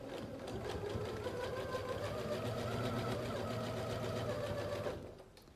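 A sewing machine runs steadily while stitching binding onto a quilt, an even rapid mechanical whir close by for about five seconds before it stops.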